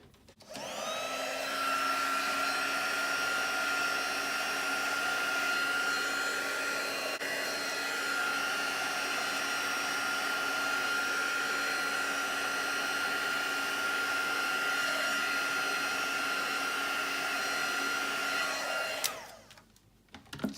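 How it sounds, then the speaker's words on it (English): A heat tool blows steadily to dry a handmade card, one continuous close whirring hum with a faint whine that runs unbroken for about nineteen seconds before cutting off. "what I might do is I might just hit that with the heat tool."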